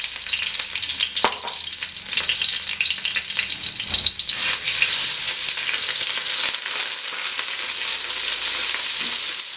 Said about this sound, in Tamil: இஞ்சி பூண்டு பேஸ்ட் வந்து ஒரு ஸ்பூன் போட்டுக்கலாம்